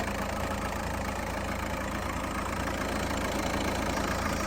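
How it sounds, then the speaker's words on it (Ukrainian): A Volkswagen Touran 1.9 diesel engine idles steadily, a continuous low rumble with an even mechanical clatter and no voices. "Ось так працює двигун, як швейцарський годинник"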